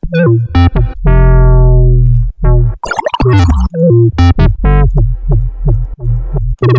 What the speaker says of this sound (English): So this patch sounds like this before all of the effects